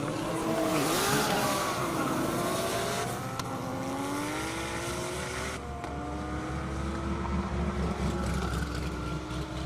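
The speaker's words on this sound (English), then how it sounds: "Next up on the track, Todd Nall, 2007 Porsche GT3, and Jay Legend in his 2012 Audi R8." Airport half-mile drag race with a 2007 Porsche GT3 and a 2012 Audi R8 launching, engines roaring and climbing through rising gear pulls, loud and sustained throughout with a shift change midway.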